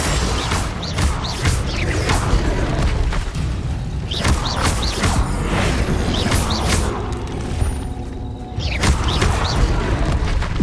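Spell explosions in the Hogwarts Legacy video game come as a string of booms, crashes and whooshing bursts over a busy, continuous combat din, with several sharp impacts spaced irregularly throughout.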